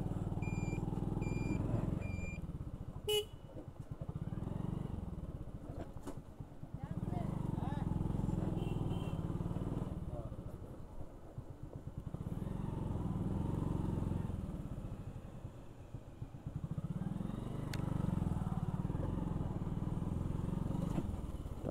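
A Hero Glamour 125cc motorcycle rides over a muddy village road, its low engine rumble rising and easing in waves as it moves along.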